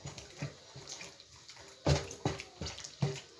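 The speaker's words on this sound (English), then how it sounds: "I'm washing it in hot water." Meat being washed under hot running water, splashing and sloshing in uneven bursts as the pieces are turned by hand, fairly close and moderately loud with no voices.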